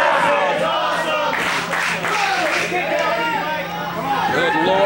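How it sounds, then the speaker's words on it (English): Crowd at an independent professional wrestling show roaring and shouting with excitement, a loud, continuous mass of voices and cheers that swells in waves, with a commentator talking excitedly over it. "Listen to this crowd!"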